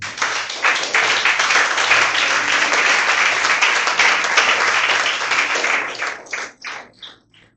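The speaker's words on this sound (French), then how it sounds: "acclame bien pour le Seigneur." A church congregation applauds for the Lord in a loud, sustained burst of dense clapping that carries steadily for several seconds, then thins into a few scattered claps before fading out.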